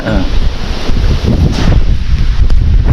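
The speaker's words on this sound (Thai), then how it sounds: "ลมมันแรงนะ" Strong wind buffets the microphone outdoors, a loud, continuous roar with gusty swells and no breaks for the full few seconds.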